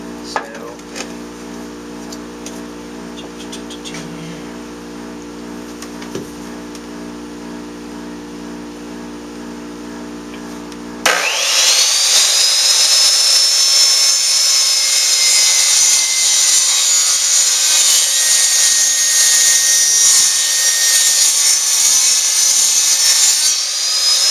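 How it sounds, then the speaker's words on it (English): Low engine hum gives way midway to a loud, high-pitched whining saw cutting steadily through the rotten, punky end of a piece of wood, continuing to the end. "I'm going to actually have to cut the end off first because the end of this wood is very punky"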